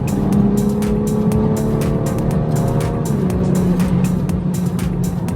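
A BMW F30 340i with a stage 3 xHP transmission tune, in sport and manual mode, revs on a rev-matched downshift: a loud, close, sustained engine drone whose pitch shifts partway through, with rapid ticking bursts over it.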